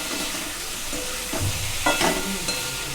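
Chicken masala being stirred gently in a pan: a constant close sizzle with a few soft scraping strokes of the spoon, one slightly louder scrape near the end.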